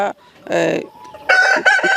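Tiger breed chickens cluck and squawk up close at a small poultry farm in short loud bursts, several birds calling over one another with brief pauses between.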